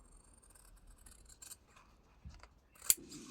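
Scissors snip the corners of paper glued onto an envelope for a scrapbooking junk journal cover, a few quiet cuts and rustles ending in one sharper snip near the end.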